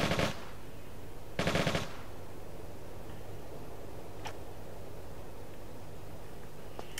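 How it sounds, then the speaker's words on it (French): Automatic gunfire in the Tomb Raider 4 video game comes as two short, loud bursts about a second apart, then gives way to quiet room tone with a few faint ticks. "On tire encore dessus."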